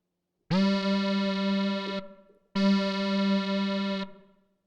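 Two sustained buzzy tones from a FORMANT DIY modular synthesizer in Voltage Modular, each about a second and a half long, bright and harmonically rich, with a short reverberant tail after each.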